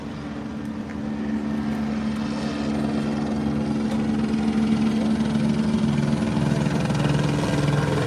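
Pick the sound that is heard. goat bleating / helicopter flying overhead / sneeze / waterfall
helicopter flying overhead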